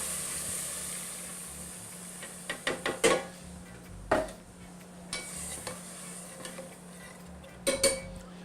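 Shrimp stock poured into a pot of sautéed garlic for shrimp chowder, a soft hiss with a few clinks and knocks of a spoon against metal, fairly quiet and close, no speech.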